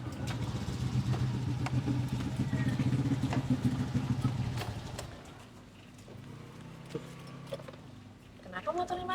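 A motorcycle engine with a fault runs steadily, then its note drops and falters partway through, leaving a rougher, uneven idle with scattered knocks and clatter.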